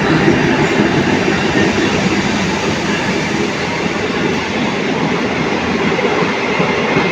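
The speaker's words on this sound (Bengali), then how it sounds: "গাইস ফাইনালি আমরা ট্রেনে উঠে পড়ছি" Train at a station on a Mal Bazar trip bound for Siliguri Junction, filling the scene with a loud, steady rumble and a faint clatter that runs throughout with no talking.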